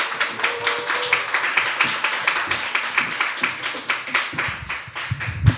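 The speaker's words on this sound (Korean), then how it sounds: "박수로 맞이하겠습니다." Church congregation clapping to welcome the pastor to the pulpit at a Sunday worship service, a dense run of individual claps in steady, fairly loud rhythm that keeps going for several seconds, with a faint voice underneath.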